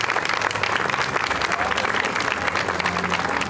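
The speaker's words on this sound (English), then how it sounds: "a round of applause for everybody involved" A crowd at a city celebration breaks into sustained, loud applause, dense clapping held steady from start to finish with faint voices mixed in.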